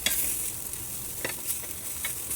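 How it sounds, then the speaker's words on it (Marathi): Pav toasts in butter in a pan over a low gas flame, giving a steady soft sizzle with occasional light scrapes as the bread is turned, close and moderately quiet. "बारीक गॅसवर पलटून पलटून भाजून घ्यायचं आहे"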